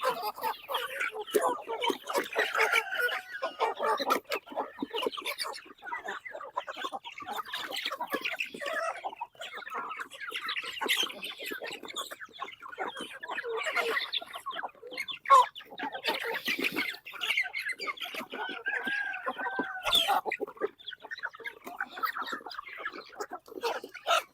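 A flock of native chickens clucks and squawks steadily, busy overlapping calls filling the scene without a break.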